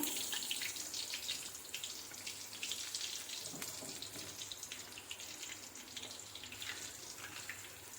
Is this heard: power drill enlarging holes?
no